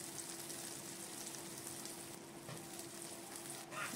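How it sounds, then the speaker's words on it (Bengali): Black cumin seeds sizzle in hot oil in a pan while an eggplant dish is cooked. The frying is a steady, even crackle that carries on alone throughout. "এবার 1 চামচ আমি কালো জিরে ফোড়ন দিলাম।"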